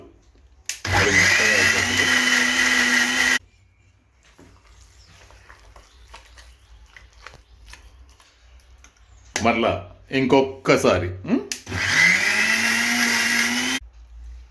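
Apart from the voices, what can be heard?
mixer grinder blending chili paste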